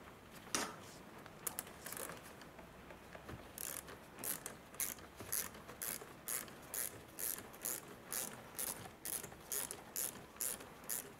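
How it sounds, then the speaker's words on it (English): A hand ratchet clicks in a steady run of rapid bursts while loosening small Torx screws beside the battery terminal of a 2004 Mercedes C180 Kompressor, close and alone with no talk. "I'm going to undo the little Torx screws that are here."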